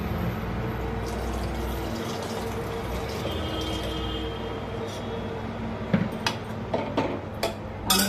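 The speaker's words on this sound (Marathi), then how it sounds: "तर अजून थोडं पाणी घालते मी" Water pours into a pressure cooker pot for dal and rice, a steady close splashing fill with a few sharp clinks of the vessel toward the end, no talk.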